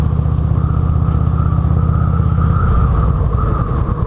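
A Harley-Davidson Road King motorcycle rides onto a gravel road, its engine a loud, continuous low rumble heard up close with no talking.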